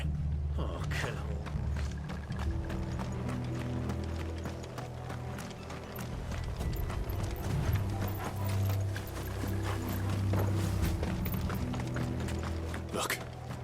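Horses galloping in the video game Final Fantasy XVI, a steady run of hoof clops over a low rumbling score, continuing throughout at moderate loudness.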